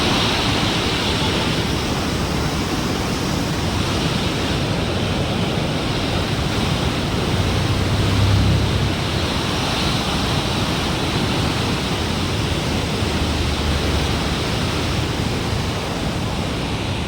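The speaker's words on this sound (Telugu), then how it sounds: "చూడండి నా వెనుక పక్కన వాటర్ ఎలా ఫ్లోటింగ్ ఎలా వెళ్తుందో" Water rushes through the Krishna Barrage in Vijayawada, a broad, steady roar like heavy surf that holds an even level throughout, with some wind buffeting the microphone and no talk.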